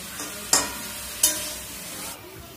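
A pan of Bengali curry with potato greens, jackfruit and jackfruit seeds, mustard paste and chili powder, stirred with a steady sizzle and two sharp scraping clicks, close and alone.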